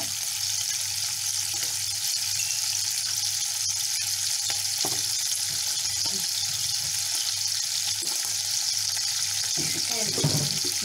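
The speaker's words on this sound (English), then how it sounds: "I'm waiting for the pancetta to completely render out and start going slightly crisp." Pancetta sizzles and renders in a pan with a steady, loud crackling hiss that holds for the whole stretch, with occasional faint stirring scrapes.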